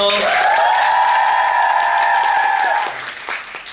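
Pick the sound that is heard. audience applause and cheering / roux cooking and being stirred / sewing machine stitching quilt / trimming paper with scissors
audience applause and cheering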